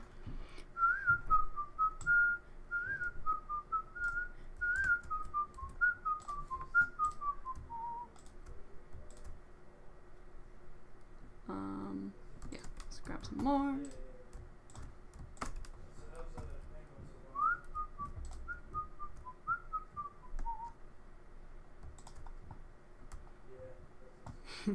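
A person whistles a cheerful, wandering tune in two bursts, close and clear, with keyboard typing and mouse clicks ticking underneath during a Minecraft 1.16 session.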